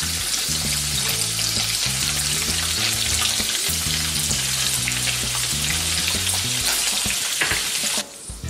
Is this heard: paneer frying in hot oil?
yes